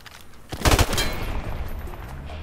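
A single loud M16 burst in Modern Warfare Remastered, several rapid cracks fired close together, then a fading rumble and echo.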